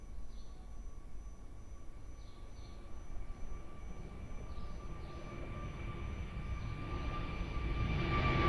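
An airliner taking off from runway 02 at Lisbon Airport, heard as a steady distant engine roar that slowly builds in loudness toward the end, with faint radio-like tones above it.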